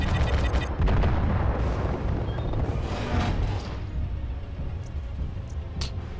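Weapons fire in Mechwarrior: Living Legends, a series of heavy booming launches and explosions that rumble and fade, followed by a few sharper distant cracks.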